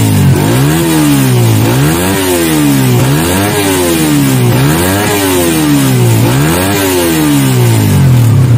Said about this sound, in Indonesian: Cuma sekarang kalau ditariknya RPM-nya lebih cepat aja bro